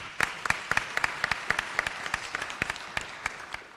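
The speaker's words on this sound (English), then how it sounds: "Please give yourselves a round of applause." A round of applause from an audience at a Feeding Westchester event: fairly sparse clapping with many individual sharp hand claps standing out irregularly over a softer background of applause, moderate in level.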